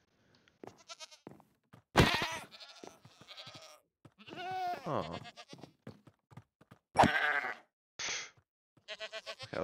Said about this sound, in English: All goats attack me in Minecraft.